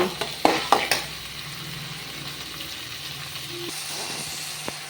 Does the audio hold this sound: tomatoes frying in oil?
yes